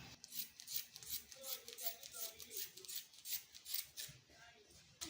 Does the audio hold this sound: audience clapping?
no